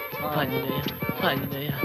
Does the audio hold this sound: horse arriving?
yes